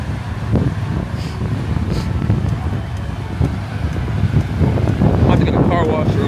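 Heavy wind buffeting a microphone outdoors, a constant low rumbling roar with gusts swelling toward the end, and a voice faintly mixed in.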